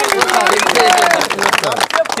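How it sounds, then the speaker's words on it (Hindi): Audience applauding at a village political meeting in Sitamarhi, Bihar, a dense burst of clapping and crowd hubbub lasting a couple of seconds, fairly loud and close, with voices mixed in. "एक बार ताली बजाइए ईमानदारी से वोट करने।"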